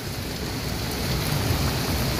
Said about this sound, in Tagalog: naabutan po tayo ng ulan habang nag-update tayo dito sa area